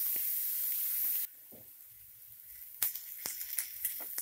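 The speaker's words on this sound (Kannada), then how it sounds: "3 ನಿಮಿಷ ಫ್ರೈ ಮಾಡ್ಕೊಳ್ಳಿ ಈರುಳ್ಳಿನ" Onions frying in a pan for a tomato mushroom gravy, a steady close sizzle that drops to a quieter crackle partway through, with scattered sharp pops and spits as the oil bubbles.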